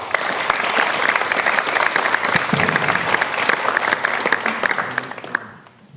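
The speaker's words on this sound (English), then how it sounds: "So can I have a big round of applause for Scott Eldridge?" Audience applauding a speaker at an academic book talk on journalism, a full steady round of clapping from many hands that fades out at the end.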